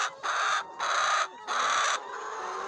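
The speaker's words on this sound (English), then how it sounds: "This is the sound that the chickens are about to start laying." A hen about to start laying gives three drawn-out, raspy pre-laying calls in a slow, even rhythm, close by, each separated by a brief pause.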